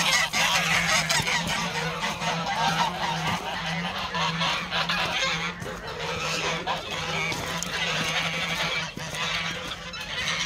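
Geese fighting in a farmyard honk loudly and continuously at close range, harsh overlapping calls with wing flaps and scuffling throughout.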